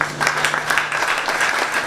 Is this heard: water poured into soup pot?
no